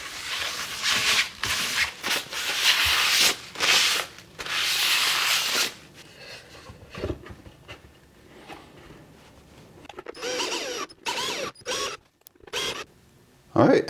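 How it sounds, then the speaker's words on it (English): A cloth wipes down a 3D printed mold made for casting plaster, giving close, scratchy rubbing strokes in bursts separated by short pauses. "I'm going to wipe everything down one last time."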